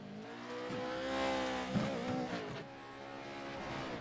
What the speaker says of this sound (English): All right, we're gonna have Luke swing around this corner, right in the top edge right there, but not too high to roll his truck